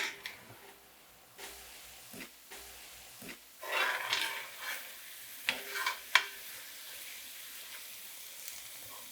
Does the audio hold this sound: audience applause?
no